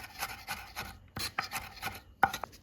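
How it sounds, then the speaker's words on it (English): About 15 grams of shallots being finely minced with a knife for Vietnamese caramel ribs: a run of quick, crisp blade taps on a board, close and fairly loud, with a few louder chops near the end and no talking. "I use about 15 grams of shallots and mince them finely"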